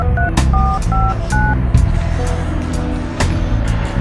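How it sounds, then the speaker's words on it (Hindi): Mobile phone keypad tones beep in a quick series of short, evenly spaced dialing notes, loud and close over a low background hum, with no talking. "मोबाइल दो, कॉल करनी है"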